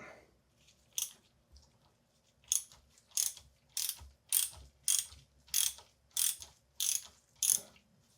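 A ratchet with an 8mm socket works a bolt loose from the top of a Marzocchi Bomber Z2 fork, giving a steady series of about nine crisp clicking pulls that come close and fairly loud.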